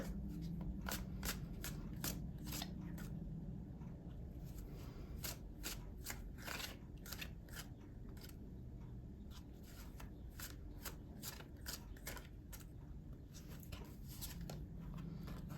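Tarot cards being shuffled repeatedly, a series of quick riffling bursts in an uneven rhythm, close and soft with no talking.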